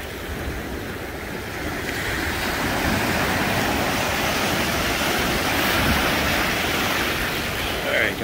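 Ocean surf washes up on Isle of Palms beach near Charleston, South Carolina, a broad continuous rushing splash that swells toward the middle, mixed with wind buffeting the microphone.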